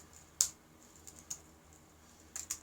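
Faint, sparse keystrokes on a computer keyboard, a few isolated sharp clicks followed by a quick cluster of taps near the end, over a quiet room hum.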